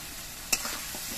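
Spice paste with salt being stirred in a pan as pieces of mango are added, a low steady sizzle broken by one crisp scrape of the spatula, close by.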